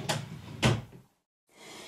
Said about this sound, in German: Hier haben wir dann jetzt auch schon das vorletzte Schubfach.